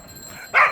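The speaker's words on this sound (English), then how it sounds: "the dogs are fighting over the food scraps from the offering" Street dogs in Bali scuffle over food scraps from an offering, with one sharp, brief yelp bursting out near the end after a quiet stretch.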